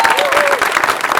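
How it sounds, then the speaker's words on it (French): Audience applause at a school certificate ceremony, a brief burst of dense clapping with a voice speaking over it. "Vous pouvez l'applaudir parce que c'est incroyable."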